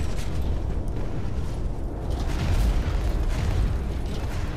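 A heat cannon fires in the mech video game Hawken, a loud, sustained roaring blast with booming, crackling bursts over a rumbling, noisy background.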